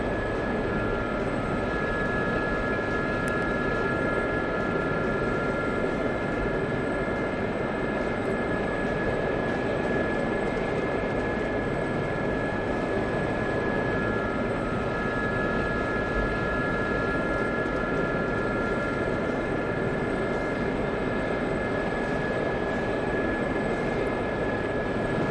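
A helicopter in the DCS flight simulator flies on steadily, its rotor and turbine making a continuous loud drone with a sustained engine whine, unbroken and even throughout.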